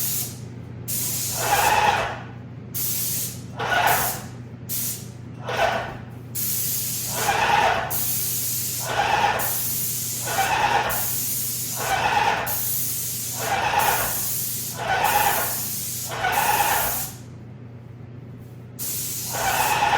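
Spray gun painting kitchen cabinets during a refinishing job: about ten regular hissing bursts of roughly a second each, close and fairly loud, separated by short pauses over a steady low hum, with no talking.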